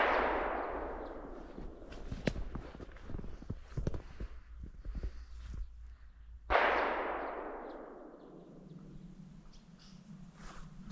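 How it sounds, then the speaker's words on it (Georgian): Gunshots ring out during a boar hunt in the mountains, a sharp distant report near the start and another loud blast midway, each trailing into a long rolling echo across the slopes. "რა კარგი გასროლები იყო"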